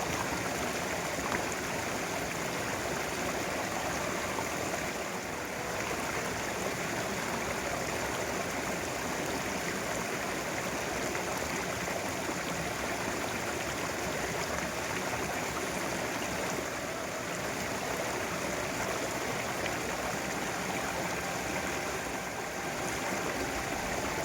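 A cold mountain stream fed from a big hillside rushes steadily, a dense, even hiss of flowing water that stays continuous and fairly faint throughout, with no voices.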